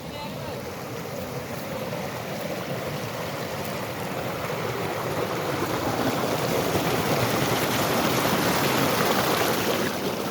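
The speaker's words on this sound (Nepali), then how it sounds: "खोला नालाहरू छन्" A mountain stream in the Sikles hills rushes steadily with broadband watery hiss, loud and continuous, swelling slightly in the second half, with some wind buffeting the microphone.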